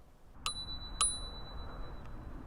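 A Hoverfly GXL MAX scooter's handlebar bell rings twice, about half a second apart: two bright, close metallic dings with a short ringing tail over a quiet background.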